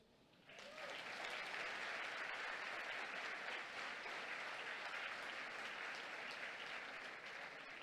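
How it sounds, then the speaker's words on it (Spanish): After a brief quiet moment, an audience at a church growth congress bursts into loud, sustained applause that holds steady and dense through to the end. "Y ahora sí el aplauso."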